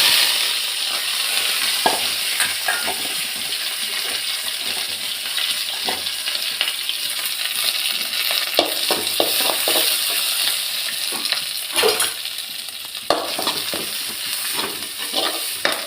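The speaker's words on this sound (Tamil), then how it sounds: "எண்ணெய் சூடாயிடுச்சு, கடுகு போட்டுக்கிறேன். வெங்காயத்தை போட்டுக்கலாம்." Mustard seeds and onions fry in hot oil for lunch, a loud, dense, continuous sizzle close by with scattered crackles and occasional spoon clinks and stirring scrapes throughout, no talking.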